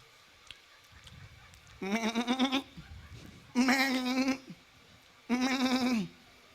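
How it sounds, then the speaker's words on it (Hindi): Goats and sheep bleat close by in three loud, wavering calls of about a second each, separated by short quiet gaps. "और वो बकरी, भेड़, और वो भेड़े और वो भेड़े"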